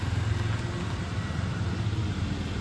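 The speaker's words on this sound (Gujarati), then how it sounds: "ચાલો હું જાઉં છું એક્ટિવા લઈને" A Honda Activa scooter engine runs steadily with a low, continuous rumble close by, no voices.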